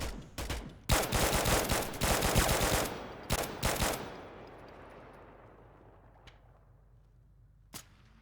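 Rapid bursts of automatic video-game gunfire crackle loudly for several seconds, then fade into a long echoing decay, followed by a couple of isolated distant shots.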